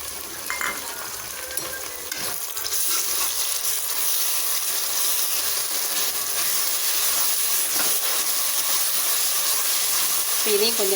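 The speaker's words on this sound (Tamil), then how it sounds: "இப்போ இதையும் கொஞ்சம் நேரம் வதக்கிக்கலாம்." Ground masala paste with ginger and garlic sautéing in a pan for jackfruit biryani, a steady close sizzle and hiss with occasional stirring scrapes, running continuously without talk.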